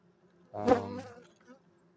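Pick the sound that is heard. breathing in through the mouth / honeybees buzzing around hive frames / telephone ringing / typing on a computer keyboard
honeybees buzzing around hive frames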